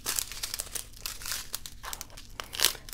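Paper Diamond Dotz kit packets being cut apart one after another with scissors, a steady stream of crinkling and snipping with sharper crunches, close and alone with no talk.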